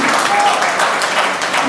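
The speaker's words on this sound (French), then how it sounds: "malgré les applaudissements" Audience applause at a political speech in Mali, a steady, dense wash of clapping filling the room throughout, loud and continuous with possible voices mixed in.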